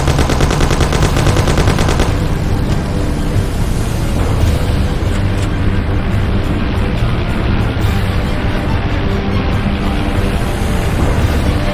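Loud, dense gunfire from the video game Mafia: The City of Lost Heaven, rapid shots merging into a constant roar of firing and engine-like rumble throughout, with no speech.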